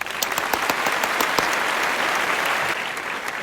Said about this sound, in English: Give yourself a huge round of applause.